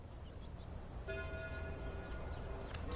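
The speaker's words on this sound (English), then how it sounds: "At that moment, the church bells began to ring." Church bells begin ringing about a third of the way in, with sustained tones held over a low background rumble like wind. The bells sound moderate and somewhat distant.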